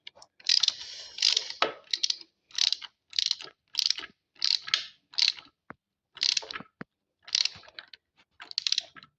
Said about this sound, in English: I'm just gonna torque the living shit out of it with my ratchet